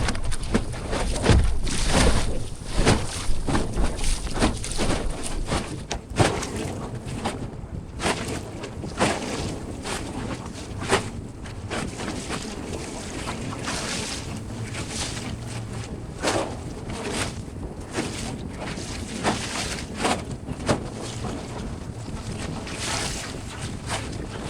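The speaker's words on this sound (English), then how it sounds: "let's go sailing" A sailboat under way in wind, testing a new mast position, with steady rushing water along the hull and heavy wind buffeting the microphone throughout, loud and close.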